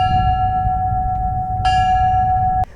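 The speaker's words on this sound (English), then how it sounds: "The ceremony concluded with the ringing of a bell" A single bell rings out steadily at a September 11 memorial ceremony, a sustained metallic tone over a low outdoor rumble, with a second sharp strike shortly before it cuts off.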